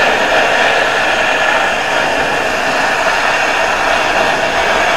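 A 60 to 100 amp plasma torch cuts metal with a loud, steady broadband hiss that holds unbroken for several seconds, with no talking.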